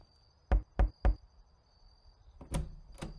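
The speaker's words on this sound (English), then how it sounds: "Suppose we could try just knocking on the front door." Knuckles rap on a front door in two bursts: three firm knocks, a pause, then a few more, close and distinct over a faint steady tone.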